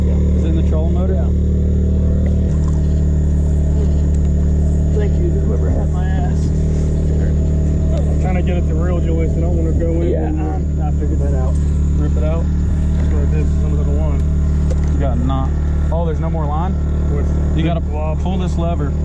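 A boat's trolling motor runs with a steady, loud hum throughout a bowfishing trip on shallow water, while people talk over it.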